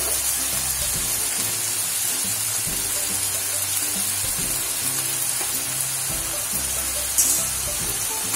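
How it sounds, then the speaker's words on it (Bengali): Hakka noodles sizzle steadily in a pan with soy sauce and vinegar as they are stirred and fried, a constant close hiss with soft scraping, no voices. "এবারে এর মধ্যে আমি নুডলসগুলো দিয়ে দিলাম এবার এগুলিকে এইভাবে নাড়াচাড়া করে ভাজা ভাজা করতে হবে"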